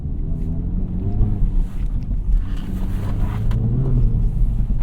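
An Acura Integra Type S fitted with FL5 Civic Type R dampers drives on the road, giving a steady, fairly loud cabin rumble of engine and tires mixed with wind buffeting. No one talks.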